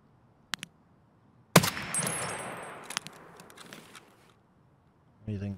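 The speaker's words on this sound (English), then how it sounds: "I kind of want to go to all those gunshots." Gunfire in the shooter game Escape From Tarkov: a couple of sharp shots, then a louder burst that rings out and decays over a few seconds, followed by quieter pops and a voice at the end.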